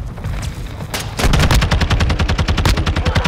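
Rapid automatic gunfire in Call of Duty: Modern Warfare II, loud and close, a fast steady burst of evenly spaced shots following a few scattered single shots.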